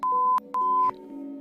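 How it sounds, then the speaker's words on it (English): Censor beeps covering a spoken name in a true-crime podcast, two sharp steady tones each lasting under half a second, with a short gap between them over faint background hum. "we've beeped out the identity of the person named in that email"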